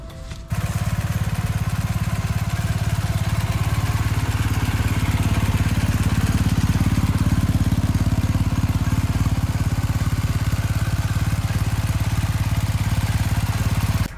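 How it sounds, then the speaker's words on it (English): A BMW R1250 GSA adventure motorcycle engine runs in a steady, loud idle close by after a brief start, holding an even rumble throughout. "Let me show you real quick how it looks when I turn on the ignition."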